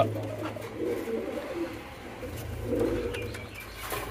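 An ailing pet pigeon coos in soft, low, throaty bursts, two clear rounds of cooing close by with faint room background and no talking.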